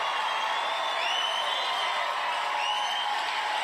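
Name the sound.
crowd applauding and cheering at a campaign event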